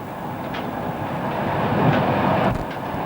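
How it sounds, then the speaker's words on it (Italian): A vintage 1990s train on the Sacile–Gemona line in Italy rolls steadily toward Cornino halt, heard from the cab as a loud continuous rumble with faint wheel clicks and a brief thump near the end. "Il treno si ferma ora alla fermata di Cornino, chilometro 35 più 823."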